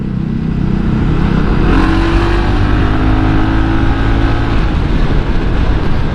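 A Honda PCX 160 scooter engine hums steadily during a test ride, a loud continuous drone with a rising tone partway through and wind rush over it, no talking.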